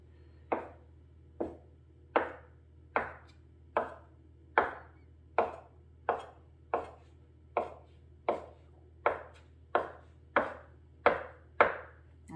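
Knife chopping a log of gnocchi dough into pieces on a board, fourteen crisp, evenly spaced taps close by, each with a short soft tail, over a low steady hum and no speech.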